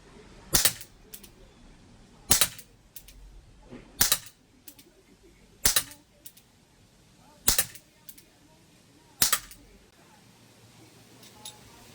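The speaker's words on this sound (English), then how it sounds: "And we just keep shooting until we run out of gas." A Chiappa Rhino 60DS 4.5mm CO2 air revolver firing six evenly spaced sharp cracks about every two seconds, each shot followed by a quick mechanical click, close and loud against a quiet background.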